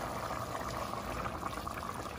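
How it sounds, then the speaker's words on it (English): Carne guisada simmering at a steady boil in a pot with bell peppers, a continuous close bubbling hiss that stays even from start to finish, with no voices. "it's already been boiling with the bell peppers and everything in there"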